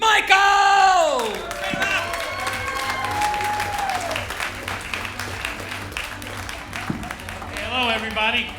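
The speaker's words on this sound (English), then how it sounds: "Let's have a nice round of applause." A comedy bootcamp audience applauds and cheers as a comedian is introduced, with whoops and yells over sustained clapping and a voice calling out at the start.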